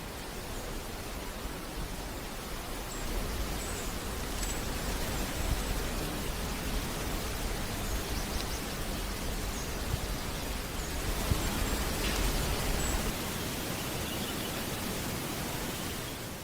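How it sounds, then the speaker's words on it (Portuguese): Thousands of monarch butterflies beating their wings in a Mexican tropical forest, a dense, even hiss like steady rainfall that holds for the whole stretch, with faint scattered ticks and no voices. "em florestas tropicais mexicanas, onde começa a curta vida de milhares de borboletas monarcas, seu bater de asas é comparado a uma chuva caindo"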